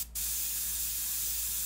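An airbrush sprays green paint for an out-of-focus background, a steady close hiss of air and atomized paint running continuously after a brief start.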